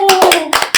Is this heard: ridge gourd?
no